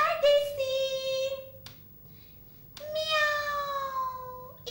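A performer in a children's theatre show imitates a cat's meow, with two long drawn-out meows separated by a pause, loud and close on a stage.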